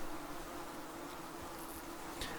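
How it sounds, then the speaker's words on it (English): A yellow jacket wasp buzzing faintly and continuously near a nest, a thin steady drone with no voices. "you hear the buzzing of a wasp"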